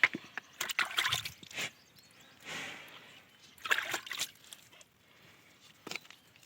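A cow milked by hand gives bursts of milk squirting and splashing into a pail in short irregular spurts, close and moderately loud, with quiet gaps between the bursts.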